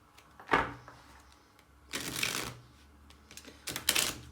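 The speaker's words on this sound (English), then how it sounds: "just going to get a few shuffles in." Tarot cards riffled and shuffled at a desk in three separate close bursts with quiet pauses between them.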